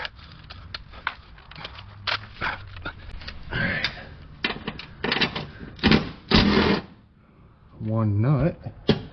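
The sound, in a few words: wrench removing 12 mm nuts from car exhaust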